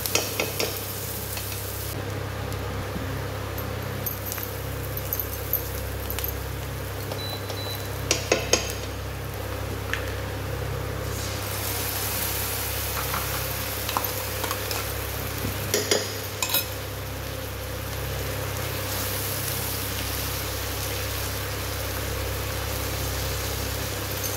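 Ginger garlic paste frying in a pan for a white gravy paneer dish gives a soft, continuous sizzle under a low steady hum, with occasional clinks and scrapes of a utensil against the pan.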